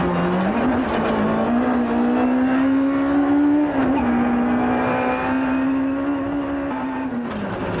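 A Volkswagen rally car at the 1993 Volkswagen International Rally drives flat out, its engine holding a loud, sustained drone with brief dips at gear changes, heard from inside the car without talk.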